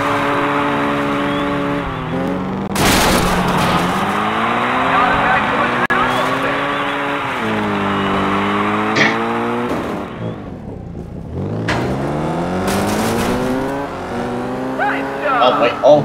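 Race cars in the Test Drive Eve of Destruction video game roar continuously through a point-to-point race, engines revving and shifting pitch as they accelerate, with sharp crash bursts and tire squeals, all loud and close.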